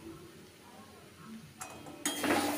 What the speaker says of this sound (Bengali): এটা ভালোভাবে মিশিয়ে নেব 2 থেকে 3 মিনিট